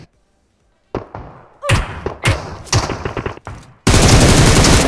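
Automatic weapon fire in PUBG Mobile comes in loud, close bursts of rapid shots with short gaps between them. It ends in a dense, sustained roar of noise.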